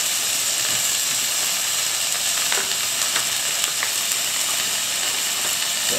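Onions sweat in a GSI hard anodized Dutch oven with a dense, continuous sizzle and hiss that stays loud and even throughout, with only a few soft ticks.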